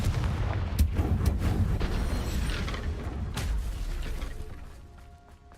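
The Confringo blasting spell goes off in a video game as a series of sharp booming cracks and thuds with mechanical rumble, loud and close, fading toward the end.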